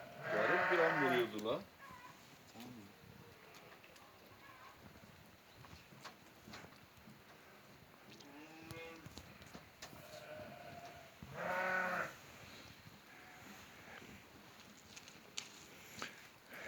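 Two loud, wavering bleats of a sheep ring out close by, separated by quieter stretches with faint shuffling and distant animal sounds.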